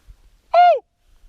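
A single loud shout echoing back through silent, still wilderness, a lone call with falling pitch, clear against near-total quiet.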